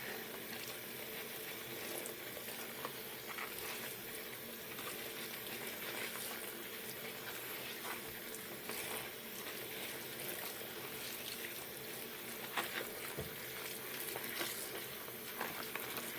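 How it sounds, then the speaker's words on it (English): Horse hair is rinsed by hand under running water: a steady, close, broadband rush of flowing water with small splashy variations, continuing unbroken with no talk. "rinse in the direction that the hair goes"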